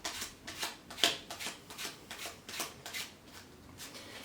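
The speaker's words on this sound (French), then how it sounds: "Je peux même mélanger les cartes." Playing cards riffled and shuffled by hand during a card magic trick, a quick run of soft papery bursts repeating steadily, close and fairly quiet, with no voices.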